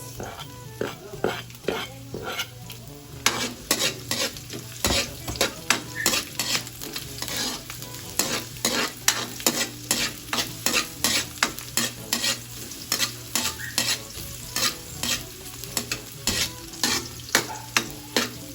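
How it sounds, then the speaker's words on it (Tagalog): Ginger and onion sauté in a pan for a sweet and sour sauce, with rapid, rhythmic spatula strikes and scrapes against the pan over a constant sizzle, loud and close throughout with no talk. "lalagyan ko na ng luya. Lalagay ko na din yung sibuyas."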